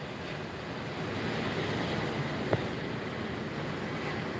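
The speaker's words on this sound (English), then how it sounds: "Can you hear the ocean?" Ocean waves at Pensacola beach, Florida, a steady broadband wash of surf mixed with wind noise on the microphone, continuous and fairly loud, with one brief sharp knock midway.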